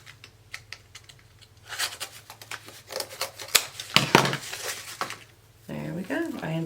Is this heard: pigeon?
no